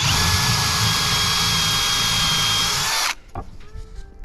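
A power drill bores into a roof rafter while mounting a solar panel hook, whining loud and steady for about three seconds before stopping abruptly, followed by a few faint knocks.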